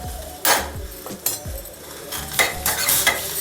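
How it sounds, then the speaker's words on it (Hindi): Honey is mixed with clove and black pepper powder in a small pan warming on a gas stove for a home cold remedy; a spoon scrapes and clinks against the pan in several close, uneven strokes over a faint sizzle. "और थोड़ा सा लौंग और काली मिर्च का पाउडर मिक्स कर लेती हूँ।"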